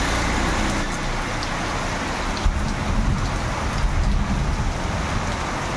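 Heavy rain pours down in a strong wind storm in Bhubaneswar, a dense, continuous roar of water hitting surfaces with gusty swells and no talking.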